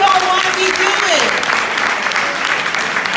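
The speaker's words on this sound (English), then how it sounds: "Yes, clap for that." An audience applauds during a speech at the Salon International de la Femme, a loud, dense, sustained burst of clapping from a large crowd, with a voice briefly speaking over the start.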